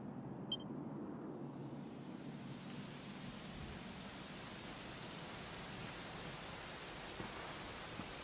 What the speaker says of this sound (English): it was raining like this the last time I ever saw her